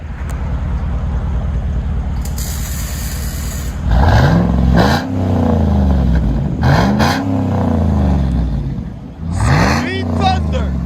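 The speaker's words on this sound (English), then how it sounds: "You can just really hear the engine." A Chevy 6.2L V8 with an aftermarket exhaust idles with a deep rumble, then revs loudly three times, each rev rising and falling back to a steady burble.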